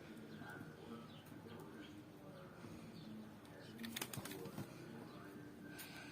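Pigeons coo softly while drinking water in a home loft, with low faint coos and a few brief wing flutters and chirps against a quiet background, as someone talks nearby.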